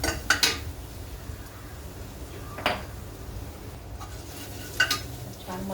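A spoon scrapes and stirs a masala with garlic sautéing in a pan. A few distinct clanking strokes sound at intervals over a steady, low sizzle, close and moderately loud, with no talking.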